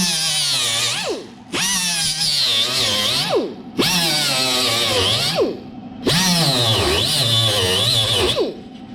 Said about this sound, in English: Dress this weld back.